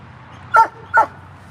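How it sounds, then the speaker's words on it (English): Two short, clear barks from a nearby dog, evenly spaced about half a second apart, loud and isolated against a quiet indoor hum. "Who are you barking at?"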